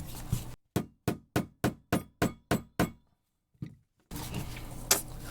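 A Tokoz Tech 300 lock is struck with a hammer in nine sharp, evenly spaced taps, then one lighter knock after a pause, close and clear with handling noise around it.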